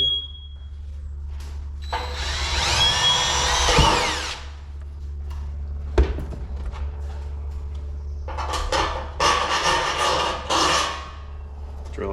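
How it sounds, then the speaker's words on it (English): A power drill whines in short bursts while drilling holes for butterfly anchors during a ceiling fan light mounting job in a Newport Beach condo, with a sharp knock midway and later drilling near and loud. "Drill it big enough for the anchors, butterfly anchors."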